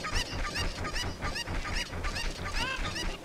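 Cuccos in Ocarina of Time squawk and cluck repeatedly, a dense run of honking bird calls that continues throughout over game background sound.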